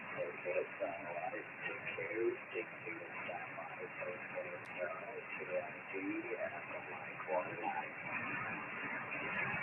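A CW signal received on an amateur radio during an AO-7 satellite pass, faint Morse tones buried in a band of hiss and static that fills the whole stretch, with a voice talking over it.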